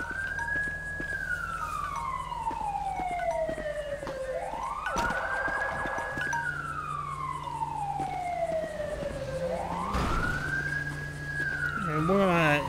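Wailing ambulance siren in Grand Theft Auto V, rising and falling in long slow sweeps that cycle repeatedly, steady and moderately loud over a low engine hum, with brief talk partway through.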